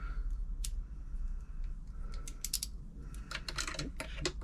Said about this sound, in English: Use my little screwdriver tool to get at. Can be tight.